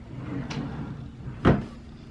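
A wooden dresser drawer in a nursery slides and bumps, with a soft knock near the start and a firmer thud as it stops, faint and close in a quiet room.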